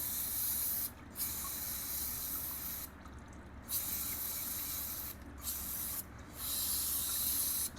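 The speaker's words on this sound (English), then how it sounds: "spray it out real good, because we want it good and clean" Bursts of aerosol parts cleaner hiss loudly and close up, sprayed into a screen during an oil change on a 2001 Yamaha Bear Tracker 250cc ATV, several long sprays separated by brief pauses.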